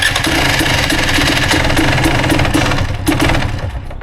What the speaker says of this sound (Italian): Ok, moto fuori. Adesso accensione,